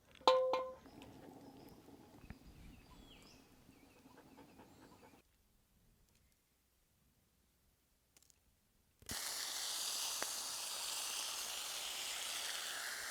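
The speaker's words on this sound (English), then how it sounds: "And that bacon is going off." Bacon sizzles over a fire in a rocket stove built from scrap metal; after a stretch of quieter rustling and near silence, a loud, steady broadband hiss of frying fat sets in and carries on close by.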